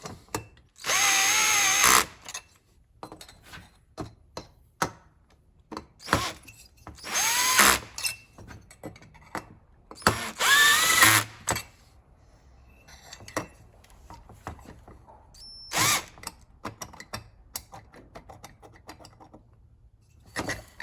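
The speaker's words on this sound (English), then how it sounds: "we'll just run them in gently with the drill" A power drill whirs in repeated short bursts, gently driving screws while assembling the piston and cylinder of a Stihl MS200T clone chainsaw, with pauses and small clanks of handling between runs, close and fairly loud.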